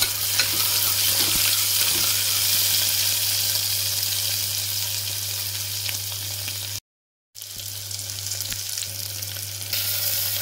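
Onion, capsicum and curry leaves fry in hot oil, giving a steady close sizzle with occasional stirring scrapes and a brief dropout partway through.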